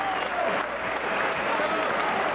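Boxing crowd cheering after a fight, a dense roar of voices and applause that holds steady and loud across the whole short stretch.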